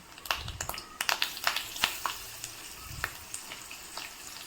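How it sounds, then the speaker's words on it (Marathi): Cumin, mustard seeds and crushed garlic fry in hot oil in a kadhai for a spinach dish, giving a soft, close sizzle broken by irregular sharp pops and crackles. "कढईमध्ये पुन्हा एकदा 4 ते 5 चमचे तेल घेऊन त्यामध्ये जिऱ्याची फोडणी द्यायची, मोहरी टाकायची आहे आणि ठेचलेला खूप असा लसूण घालायचा आहे"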